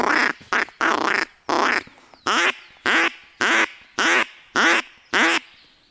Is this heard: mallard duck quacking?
yes